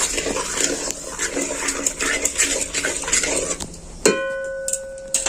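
Salt is stirred in a very hot wok, with close scraping and rattling of the utensil against the metal in an uneven rhythm, then a sharp ringing clang about four seconds in.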